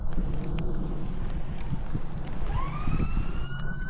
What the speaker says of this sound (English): Yep, an ambulance siren.